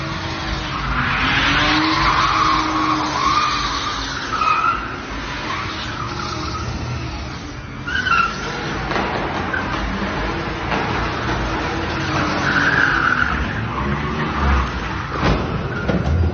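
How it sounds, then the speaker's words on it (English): A continuous roar of car engines and tire squeal with skidding screeches over loud background noise as a BMW skids into a truck; no distinct crash impact stands out. "This BMW went out of his way to go wreck into that truck."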